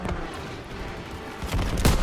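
Rapid gunfire from a World War II first-person shooter battle, a steady dense barrage with heavier bursts near the end, loud and continuous with no talk.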